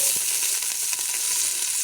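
Coconut oil heats in a cooking pan with a steady, bright sizzle and crackle that fills the whole moment without pause.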